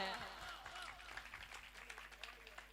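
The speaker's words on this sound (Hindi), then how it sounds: "बहुत ताली बजा रहे हो वाह वाह करके" Faint audience clapping at a Hindi comedy poetry gathering, scattered and soft, rising briefly beneath a performer's voice that opens the moment.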